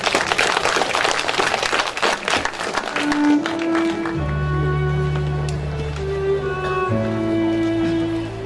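Audience applause at a patriotic poetry recital concert, a dense burst of clapping that fades after a few seconds as sustained low instrumental tones come in underneath.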